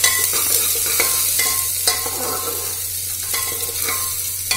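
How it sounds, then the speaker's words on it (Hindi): Onions frying in a pan, a steady sizzle with scattered stirring scrapes and clicks of a utensil, close and fairly loud, no talking. "अब ये प्याज भुनना स्टार्ट हो गई है"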